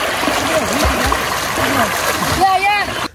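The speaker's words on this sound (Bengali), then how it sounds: "তো আমরা অনেকক্ষণ এভাবে ঝাপাঝাপি করতেছি।" Floodwater splashing and churning as people play in a strong current, continuous rushing water with repeated splashes and a gurgle near the end.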